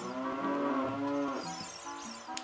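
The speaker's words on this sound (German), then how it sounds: "Kuh!" A cow lowing in the video game Ocarina of Time, one long drawn-out moo with a rich tonal quality that bends and fades near the end, close and clear with no talk over it.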